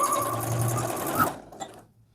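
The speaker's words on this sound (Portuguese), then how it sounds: "Vou esticando e vou costurando." A sewing machine runs close by as elastic is stretched and sewn onto a blouse sleeve, a continuous whirring hum for over a second before it slows and stops, leaving near quiet.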